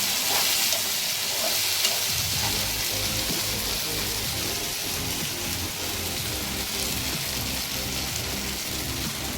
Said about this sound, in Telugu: ప్యూరీ వేసుకొని ఇదంతా బాగా కలుపుకొని ఇందులో వేగనివ్వాలి.